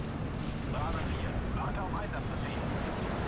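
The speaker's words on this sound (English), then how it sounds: "I want all you Ju-88s to just dive bomb him to death." Ju-88 dive bombers bomb ground targets in the Steel Division 2 battle game, producing a continuous dense roar of rumbling explosions with no gaps.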